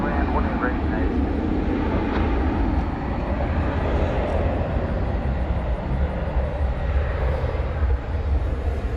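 A Boeing 737-800 airliner lands at DFW airport at night with a steady, loud, broadband engine roar and rumble that holds for the whole stretch. Speech is mixed in under the noise.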